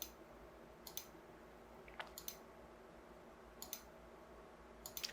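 Computer mouse clicks sound at a CAD drawing workstation, faint and close, in short spaced pairs and single taps against a quiet room hum.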